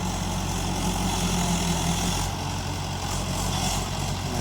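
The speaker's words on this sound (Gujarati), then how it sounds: "આ ટ્રેક્ટર આપણો" Tractor, model 275, running out in a farm field with a loud, steady low engine drone at close range and an unbroken chug throughout, with no voices.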